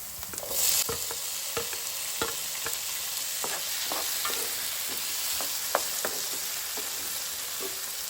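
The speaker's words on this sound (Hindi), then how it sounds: "अब हम इसमें डालेंगे बारीक चॉप किया हुआ टमाटर।" Finely chopped tomato fries with already browned onion in a pan, giving a steady, fairly quiet sizzle punctuated by repeated light taps and scrapes of a stirring spoon.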